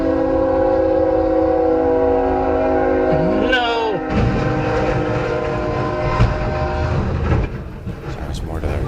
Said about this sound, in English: A train plows into a tractor trailer carrying an armored vehicle in South Carolina.